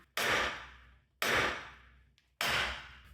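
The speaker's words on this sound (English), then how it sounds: "So I'm going to try this pickle fork from the backside and see if this will break it loose. Or maybe just the hammer." A hammer strikes a ball joint on a 1994 Chevy K1500 truck's front suspension to knock it loose: three sharp, loud metallic blows about a second apart, each ringing briefly before fading.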